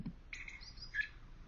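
A blackbird sings one short, faint phrase of clear whistled notes that ends in a brighter rising flourish, with a soft thump at the start.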